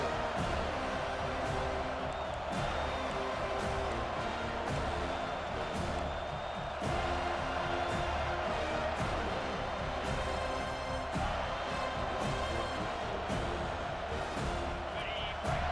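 Home crowd roaring in EA Sports College Football 25 as the defense tries to get off the field on third down, a steady dense stadium wash under game commentary.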